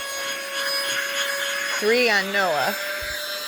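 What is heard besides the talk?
handheld vacuum cleaner running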